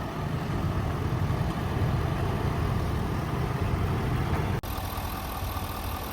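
2024 Ford F-350 Lariat with the 6.7 high output turbo diesel runs steadily, a loud, dense, even rumble that continues unbroken apart from one brief dropout near the end, with no voices.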